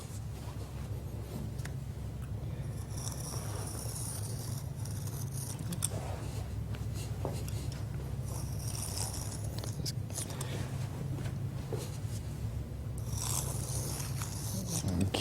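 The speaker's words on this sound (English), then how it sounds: "it'd be very easy for an installer just to come and trace cut these out just like this" A blade trace-cuts a square out of Powerbond backing material, giving steady scraping and slicing strokes with sharper bursts at intervals over a low background hum.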